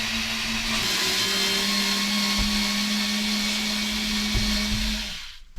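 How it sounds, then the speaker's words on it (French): A steady motorized whir, most likely a power screwdriver backing out the screws of a roof vent on a van conversion, runs continuously at close range with a few soft knocks before stopping abruptly at the end. "Je suis en train de dévisser."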